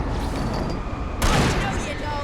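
Gunfire in the video game Alan Wake, a burst of shots that breaks in suddenly partway through over a steady background din, with a person talking over it.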